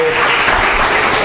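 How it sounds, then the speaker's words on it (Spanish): An audience applauds a volunteer at a live talk on illusionism and paranormal magic tricks, a brief, loud, continuous burst of crowd clapping. "Aplauso para Fernando."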